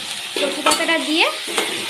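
Taro leaves stirred through spiced masala in a pan, a spoon scraping in a few close strokes over a soft sizzle.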